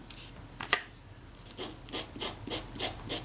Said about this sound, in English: Here I'm just using the scalpel as a lever to pry the leatherette back.